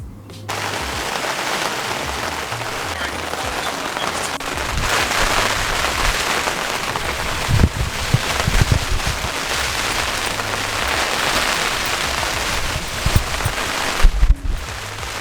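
Steady rain and gusty wind batter a bivvy tent's fabric on a carp fishing trip in a constant loud hiss, with occasional sharp flaps and knocks.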